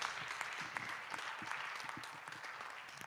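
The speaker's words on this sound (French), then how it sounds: "Nous acclamons encore très fortement le Seigneur pour ce moment spécial." A church congregation applauding in acclamation of the Lord, steady dense clapping from many hands filling a hall, sustained and even throughout.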